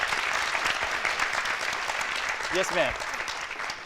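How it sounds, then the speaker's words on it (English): A school teen town hall audience applauds in a steady wash of clapping, with a brief spoken reply heard over the clapping. "Let's give him another round of applause."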